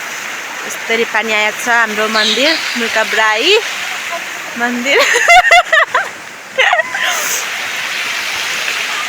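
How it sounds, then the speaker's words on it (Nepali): Water runs steadily from spouts at a temple, a continuous broadband rush heard close by beneath a person talking throughout. "यसरी पानी आएको छ हाम्रो मन्दिर मुकाब्राई।"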